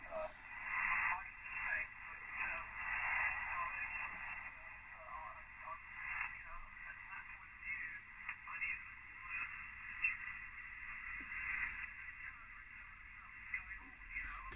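A single-sideband radio signal received on a XieGu G90 transceiver with its filter narrowed, giving thin, band-limited voices over steady hiss, fairly quiet and continuous throughout.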